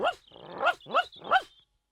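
A cartoon dog named Bumpy Dog, from a children's Toyland animation, gives three or four quick, bright barks in close succession, loud and alone with no talk over them.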